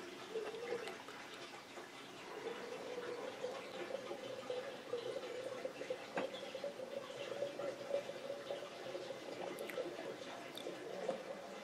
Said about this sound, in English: If I had my faucet turned on, I could not fill it up as quickly as my drain tile system is.